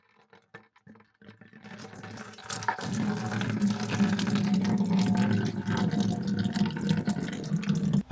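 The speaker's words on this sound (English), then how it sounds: "I probably got 12 or 13 gallons of fuel out of that tank." Fuel from a wrecker's tank pours out of a loosened drain, starting with a few drips and then becoming a steady, loud, close splashing gush that keeps going, with no one talking.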